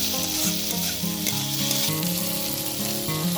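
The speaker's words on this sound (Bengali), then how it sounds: "এটা আমি পাঁচ মিনিট মতন কষিয়ে নেব" Chicken ghugni masala with potatoes sautéing in a pan makes a loud, continuous sizzle with no speech, over a steady tonal hum.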